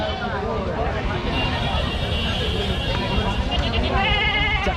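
A 22 kg goat bleats at a livestock market in Chowbaria, Naogaon, Bangladesh, its wavering cries rising near the end over constant chatter and market noise.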